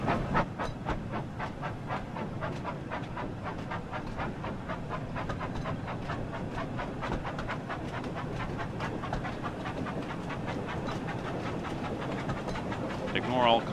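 Steam train in the Sodor game running fast on rails, with a rapid, steady chuffing and clattering rhythm throughout, while a voice talks over it.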